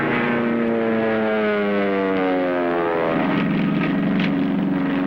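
A 1951-era propeller aircraft engine drones steadily in flight, loud and close, its harmonic tone dropping in pitch partway through as the throttle or attitude shifts.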